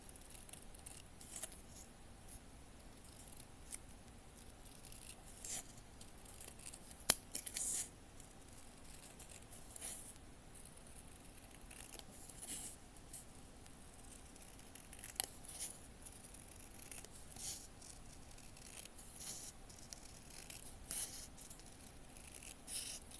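Scissors snip out tiny paper pieces for a miniature cat cafe garden room box, a faint, close series of irregular small cuts and paper rustles.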